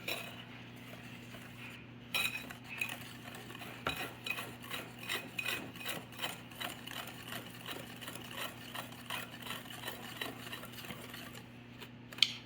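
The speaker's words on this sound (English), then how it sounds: "Then you take a whisk, you mix all of the dry ingredients together." A whisk stirs dry cornbread ingredients, including baking powder, together in a bowl, making soft, steady, rhythmic scraping and light clinking strokes that stay faint throughout, with no talking.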